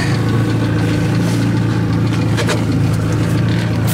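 A Chris Craft motorboat engine running at a steady low rumble, loud and close, with a constant deep drone and faint flutter throughout, no talk.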